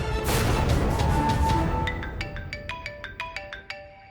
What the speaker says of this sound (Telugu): Office call Maha.